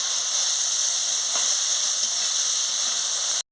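Vegetables fry in a pan with turmeric and chili powder, giving a steady, even sizzle and hiss that runs throughout before stopping abruptly.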